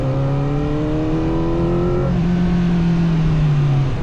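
A CFmoto 500SR sport motorcycle revving hard on the road, its engine pitch climbing steadily, dropping at a gear change, then climbing again, loud and close with wind rush and no speech.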